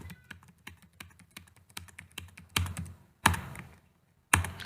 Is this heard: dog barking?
no